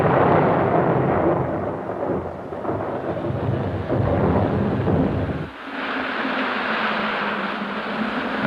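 A thunderstorm rages in a medieval setting, a continuous loud roar of rumbling thunder and heavy rain that fills the whole stretch, easing briefly before the downpour continues steadily.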